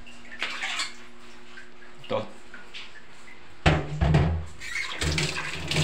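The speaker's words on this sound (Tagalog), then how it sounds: "kukuha ako ng tubig para ipainom ko ni Dexter" Tap water runs into a container to give a pet dog named Dexter a drink. Quiet kitchen sounds come first, then a steady, close rush of water pours for the last couple of seconds while a person speaks briefly.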